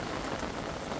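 Summer rain in late July falling steadily, a dense continuous patter of drops on surfaces filling the whole second without pause.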